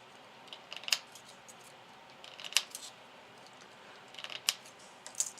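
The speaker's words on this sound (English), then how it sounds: "cut all your petals apart, very easy" Crisp scissor snips cutting apart paper petals for a filigree rose, three or four short separate cuts spaced about two seconds apart, close and isolated with no talking.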